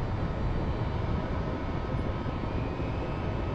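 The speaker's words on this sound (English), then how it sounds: "And that's a helicopter." Helicopter in the Cold Waters submarine video game, a steady whirring engine roar that holds evenly throughout, close and constant with no talk.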